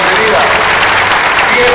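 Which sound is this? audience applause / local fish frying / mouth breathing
audience applause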